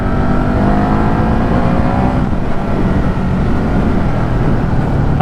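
Ducati Hypermotard 950 RVE motorcycle engine running in sports mode, a loud, close, steady rumbling drone with a slight shift in pitch midway.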